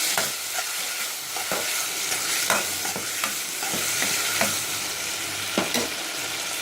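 Masala being sautéed in a pan for Madurai mutton kola urandai kuzhambu, a steady close sizzle with repeated scraping strokes of a spatula stirring throughout, no voices.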